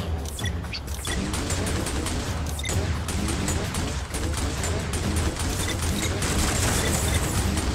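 Turret gunfire in Skylanders SWAP Force plays as dense, continuous rapid shooting with booming impacts and mechanical clatter, loud and sustained throughout with no speech.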